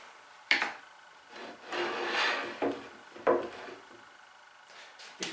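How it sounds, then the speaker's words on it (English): Wooden workpiece being hand sanded right up to a block clamped at a joint line, short uneven rubbing strokes with a few sharp knocks of wood against wood, close and moderately quiet, no voices. "put a block on that's going to stop the sanding right at the joint line, and then sand as normal right up to your block."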